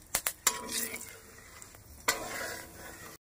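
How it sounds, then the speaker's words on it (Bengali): Cumin, a torn bay leaf, cardamom, cloves and cinnamon sputter in oil with a soft, close sizzle, opened and punctuated by a few sharp clinks of a spoon against the pan, alone and fairly quiet. "প্রথমে দিয়ে দিচ্ছি 1/2 টিস্পুন জিরে, একটা তেজপাতা 2 টুকরো করে দিয়েছি, আর 2টো এলাচ, 2টো লবঙ্গ"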